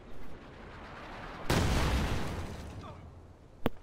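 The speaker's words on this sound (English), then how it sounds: "Barrage going out." An artillery barrage in a strategy video game lands as a sudden heavy burst of blasts that rumbles and fades over a couple of seconds, followed by a sharp single crack near the end.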